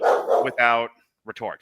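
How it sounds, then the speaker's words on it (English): A dog barks indoors in a few sharp, yappy bursts between a person's speech, close to the microphone. "Again, I apologize for the dog."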